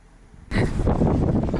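Loud, close wind buffeting the microphone suddenly kicks in, a dense low rumbling roar that continues without a break.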